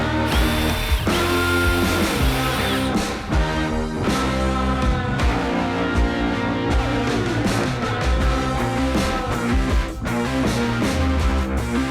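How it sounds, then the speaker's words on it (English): A power drill boring pilot holes into a thin plastic rack for a Polaris Ranger 2-seat, with repeated whining bursts and short pauses, close and loud. "we got all our pilot holes drilled"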